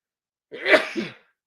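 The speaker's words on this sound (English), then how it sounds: "Sometimes I sneeze twice, most of the time." A single sharp sneeze, loud and close, bursting out after a moment of silence.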